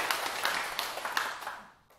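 An audience at a lecture claps hands together in a brief, dense patter of applause that fades away over about two seconds.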